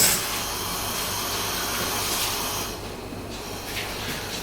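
A steady, loud hiss of water at a rolling boil in a pot for pasta, continuous throughout, easing slightly near the end.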